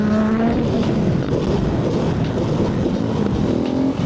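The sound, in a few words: Honda Grom motorcycle riding on the highway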